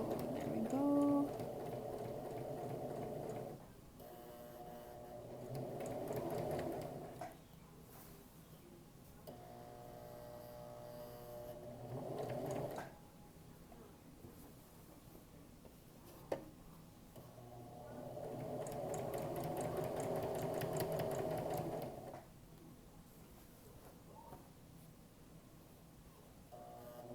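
A sewing machine stitches a jingle dress in intermittent bursts of steady mechanical running, separated by pauses, with quiet talk and handling noise in the gaps.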